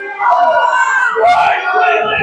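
A wrestling show audience roars, cheering and yelling loudly in overlapping voices, with a sharp surge of shouts midway through the dense crowd noise.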